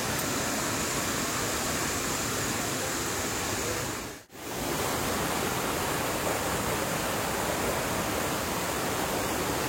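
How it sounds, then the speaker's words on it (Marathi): Waterfall in Meghalaya pouring over rocks, a steady loud broadband rush close by, constant throughout apart from one brief dropout midway. "म्हणजे पाणी येत आहे ना आणि इकडून पाणी वाहत आहे"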